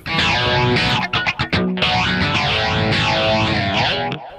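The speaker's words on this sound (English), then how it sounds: "Let's try it with a bit of flanger." Heavily distorted electric guitar chords through a Line 6 Spider Classic 15 amp with a sweeping, whooshing flanger effect, a few choppy stabs in the middle, loud and up front.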